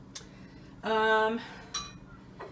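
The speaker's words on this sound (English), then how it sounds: "So you just mix this up" Softened cream cheese dip mixed by hand in a bowl for a holiday appetizer, with a few scraping clinks of a utensil against the dish, close and fairly quiet.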